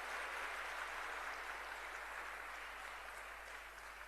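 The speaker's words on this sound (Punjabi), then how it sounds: "ਇੱਕ ਵਾਰ ਜ਼ੋਰਦਾਰ ਤਾੜੀਆਂ ਨਾਲ ਸਵਾਗਤ ਹੋਣਾ ਚਾਹੀਦਾ ਸੀ" A crowd at a political gathering applauds to welcome an arriving speaker, a dense steady wash of clapping from many hands that continues evenly and fades slightly toward the end, with no voices over it.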